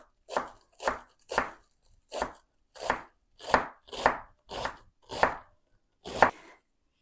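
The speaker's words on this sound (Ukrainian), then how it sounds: "пекинська капуста нарізаємо соломкою" Napa cabbage chopped into thin strips with a knife on a board: eleven crisp, evenly spaced chops, close and clear, with silence between them.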